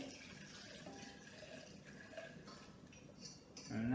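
Liquid pours steadily into a blender, a soft continuous splashing trickle, faint and close, with no talking.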